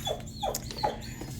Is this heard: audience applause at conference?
no